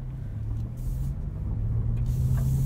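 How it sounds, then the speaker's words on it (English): A 2023 Acura Integra with a 6-speed manual is driven in normal mode, giving a steady low engine hum and road rumble from inside the cabin that grows slightly louder. "we're going to start off in normal mode, and we will make our way to our twisty back road"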